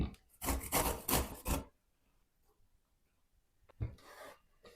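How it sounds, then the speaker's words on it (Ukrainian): Rhythmic coarse rasping strokes of a carrot grated on a coarse grater, several in quick succession, then a pause and another short burst of scraping, close and fairly loud. "А моркву натерти на велику терку."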